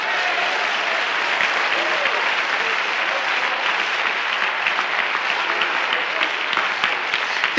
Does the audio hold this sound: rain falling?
no